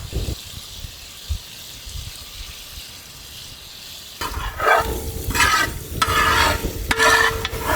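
Quiet sizzling for a few seconds, then louder stirring and frying with scraping and sizzle bursts as ginger is added and tossed in a pan of chicken.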